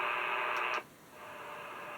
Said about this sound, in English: I checked it on my other radio and we're getting bad static